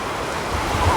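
Waves wash onto a busy beach in a brief, continuous broadband rush with some wind noise, swelling slightly toward the end and heard without speech.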